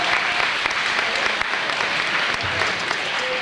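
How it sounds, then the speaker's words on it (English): At a 1998 banquet, diners in a hall give a round of applause, a full, steady spread of many hands clapping at moderate distance with no clear voices over it. "everyone a round of applause"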